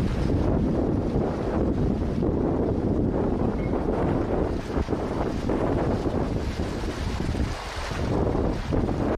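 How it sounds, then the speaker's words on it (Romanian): Strong storm wind gusts in southern Britain roar steadily into the microphone with a dense, buffeting rumble that swells and dips throughout, with no voices present. "În Marea Britanie, rafalele de vânt au atins 60 de km pe oră"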